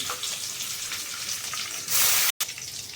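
Mustard seeds, cumin, garlic and green chillies fry in hot oil, a steady close sizzle that swells louder for a moment and then cuts out briefly before resuming.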